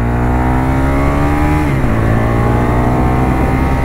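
Aprilia RSV1000R twin-cylinder motorcycle under way on an open road, its engine droning loud and steady close by, pitch shifting as it changes speed partway through, with no talk over it.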